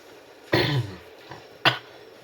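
A person coughing twice, a short burst followed by a second sharp cough about a second later, close and fairly clear against quiet background.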